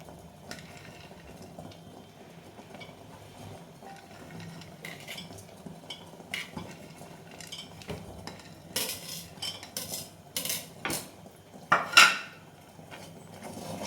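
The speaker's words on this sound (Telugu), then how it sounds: "సో వేసిన తర్వాత ఇలా మిక్స్ చేసుకొని" A spoon stirs mango custard in a bowl, quiet scraping at first, then louder clinks and knocks against the dish toward the end, with no talk.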